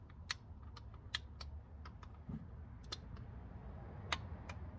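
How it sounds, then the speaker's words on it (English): A torque wrench snaps off a series of crisp, close clicks while tightening a Ford Fusion oil drain plug to 20 foot-pounds, quiet sharp ticks spaced irregularly over a faint background hum. "You tighten it until it clicks like that, and that is tight enough."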